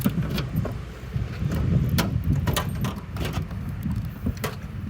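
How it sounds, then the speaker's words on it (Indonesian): Rear tailgate of a Daihatsu Xenia Xi VVT-i 1.3 car being opened, a few close clicks and clunks of the latch and door over a steady low rumble, with no talking. "Kita coba buka di bagian pintu bagasinya."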